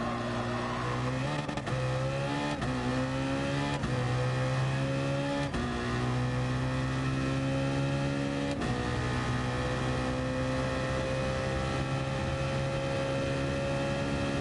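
A car in the racing video game Gran Turismo Sport pulls hard up through its gears, the engine note climbing repeatedly and dropping sharply at each shift. The in-game engine stays loud and steady throughout.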